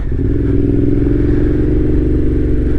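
A 2021 Yamaha Tenere 700 adventure motorcycle fitted with a full Black Widow exhaust, ridden off-road, its engine droning loud and steady close by with faint rattles from the trail.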